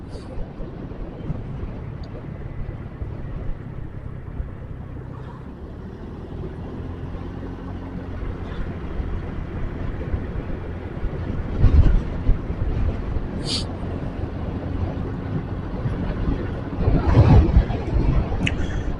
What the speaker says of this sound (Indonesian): Kondisi anginnya sangat kencang sekali teman-teman